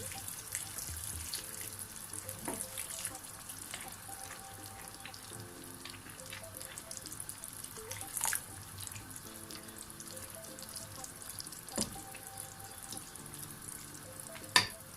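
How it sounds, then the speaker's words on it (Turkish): Water pours into a pot of pasta and vegetables until the noodles are covered, a soft, steady splashing trickle heard close up, with a few small clinks. "Şimdi makarnaların üzerini örtecek kadar suyundan tekrar ilave edeyim"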